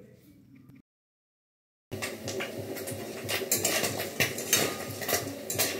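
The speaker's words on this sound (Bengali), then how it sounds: "মাছ ভাজা হয়ে গেছে, এবার মাছ ভাজাটাকে তুলে নিই।" Fried fish being lifted out of a pan with metal utensils, clattering scrapes and clinks of metal against the pan after a short silence, close and fairly loud.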